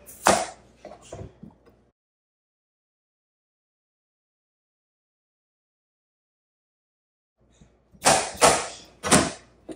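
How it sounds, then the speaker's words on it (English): Vegetables are chopped roughly with a knife on a cutting board before going into a food processor: a quick burst of close, sharp knife thuds, a long quiet gap, then another brisk run of chops. "I am just chopping up veggies roughly and getting them in the food processor"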